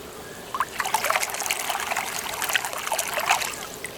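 Water from a running pump on a Summer Waves Elite pool trickles and splashes steadily at close range, bright and continuous for a few seconds.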